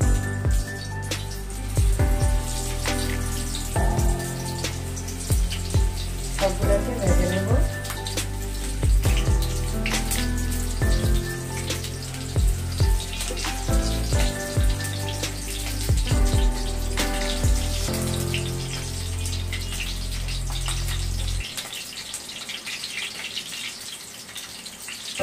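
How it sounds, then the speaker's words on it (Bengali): Stuffed pointed gourds fry in hot oil in a pan on a stove with a steady, close sizzle that runs for about twenty seconds under background music, then stops abruptly. "এখন এগুলাকে ভেজে নিচ্ছি।"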